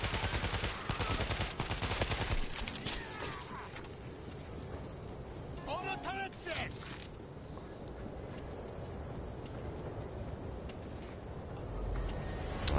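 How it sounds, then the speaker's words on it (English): Rapid bursts of gunfire come from an auto turret holding off a zombie horde in World War Z, rattling loudly and continuously at close range with dense, noisy crackle beneath. "Auto turret"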